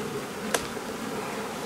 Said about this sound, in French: énormément d'abeilles